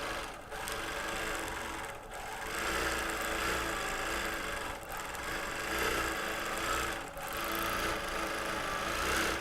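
A quilting machine runs steadily in free motion across a quilt top, a continuous close mechanical whir with faint rhythmic dips and no talking.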